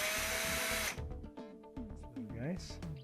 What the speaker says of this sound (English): Take out some of these 1/4-inch screws below the controller.